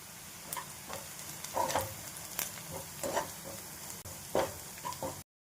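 Red chili powder, garam masala, dry mango powder, coriander-cumin powder, turmeric and a little sugar fry in oil, giving a faint, soft sizzle broken by a few light stirring scrapes.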